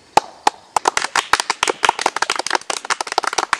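Applause for a guest at a mock talk-show classroom presentation, a small group clapping unevenly, with sharp, close, distinct hand claps that pick up speed and density over a few seconds.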